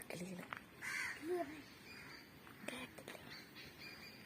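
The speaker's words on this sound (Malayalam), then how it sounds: "കിളികളുടെ സൗണ്ട് കേൾക്കാവല്ലോ" Outdoor birds calling with a couple of crow-like caws and squawks, fairly faint, mixed with distant voices and background noise.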